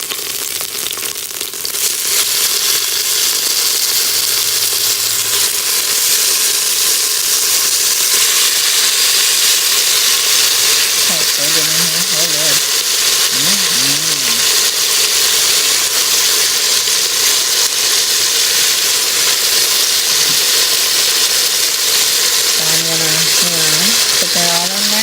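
Meat frying in a pot coated with tomato paste while making Haitian soup joumou, a steady loud sizzle running throughout, with a voice speaking over it intermittently.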